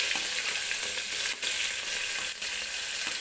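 Onion, curry leaves and chili frying in hot oil after mustard seeds and cumin for dal khichdi, a loud dense sizzle heard close up, with two brief scraping stirs.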